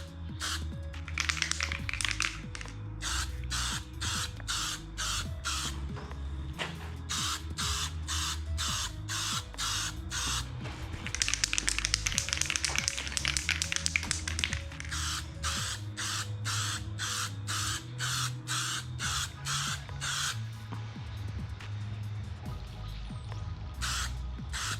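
Short hissing bursts of spray paint on a 2019 Honda CB300R tank cover repeat in a quick rhythm, with one longer continuous spray in the middle, close and fairly quiet.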